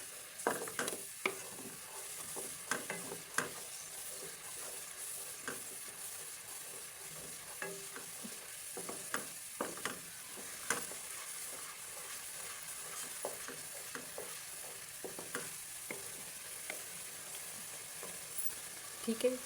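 Fish frying in a pan for restaurant-style fried fish at home, a soft continuous sizzle broken by occasional light scraping and clinking from stirring, heard close but quietly.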